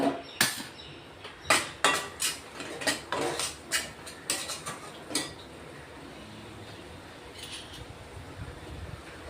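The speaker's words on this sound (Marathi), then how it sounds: "चांगलं मसाल्यात परतून घेणार आहे" Spoon clanks against a pan as Khandeshi stuffed brinjal is sautéed in masala, a quick irregular run of sharp metallic knocks for about five seconds before it settles into a low steady background. No one speaks.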